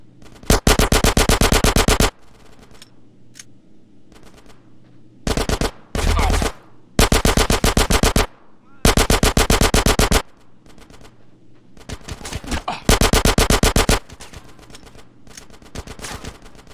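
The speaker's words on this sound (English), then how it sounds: "Get some suppressing fire in there!" Repeated bursts of machine gun suppressing fire in a combat scene, loud and close, each burst a rapid string of sharp cracks lasting one to two seconds, separated by short pauses.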